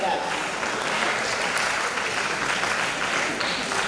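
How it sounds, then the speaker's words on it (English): An audience breaks into a round of applause at an International Women's Day speech, the clapping thick and continuous throughout, with faint murmurs mixed in. "Can we have a round of applause for that?"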